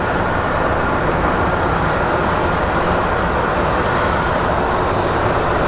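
An American Airlines jet passes at Phoenix Sky Harbor airport, a loud, dense engine roar that holds steady across the short stretch with no voices.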